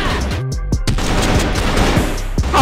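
Loud, close bursts of gunfire cracking in rapid succession over a dense, noisy game soundscape.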